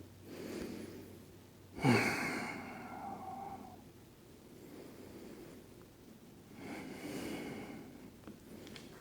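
Deep yoga breaths come close and soft: a sharp audible inhale-exhale, then quiet, then another long breath later, with light rustling in between.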